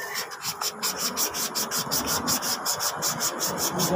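Sandpaper rubs back and forth over rusty metal in a steady, rhythmic scratching, about four strokes a second, close and loud with no talk over it.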